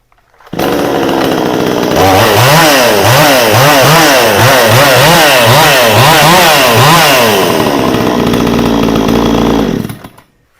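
A VEVOR 62cc chainsaw engine starts up loud and close, revving in a rapid repeated rhythm of rising pulses for several seconds before dropping to a steady idle and cutting off.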